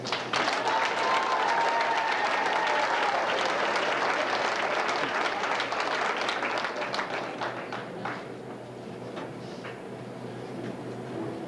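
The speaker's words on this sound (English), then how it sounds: "if y'all give him a round of applause" Applause from the audience at a high school winter sports banquet, loud and dense at first, then thinning to scattered claps as it tapers off.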